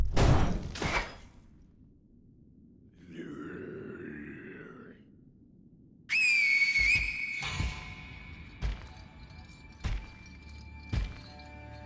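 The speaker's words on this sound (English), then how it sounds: "I doubt the whistle would work, right?" A whistle in the video game Sekiro sounds as a sustained bright tone with sharp onset, preceded by a warbling wind-like effect and followed by scattered thuds and clanks of game action.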